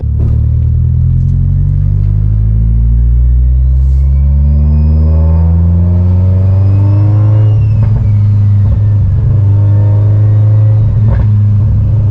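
A Mitsubishi Evo X on new Volk wheels pulls away loudly and up close, its engine revving through climbing, rising gears with a deep, heavy rumble and no voices.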